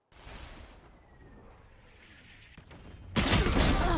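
Gunfire in the Valorant video game during an esports match: a quiet stretch with faint swishes, then a sudden loud, sustained burst of rapid shots close up at the end.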